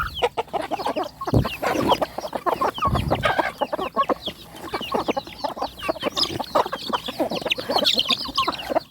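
Chickens and ducks peck at feed, a dense flock of close clucks and short chattering calls overlapping continuously with rapid pecking ticks, busy and loud throughout.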